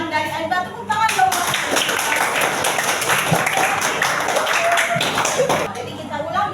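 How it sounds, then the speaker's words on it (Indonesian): Classroom applause after a student's good answer, steady close clapping from a group that fills several seconds, with speech at the start and near the end. "Oke, bagus jawaban dari Anda. Tepuk tangan dong."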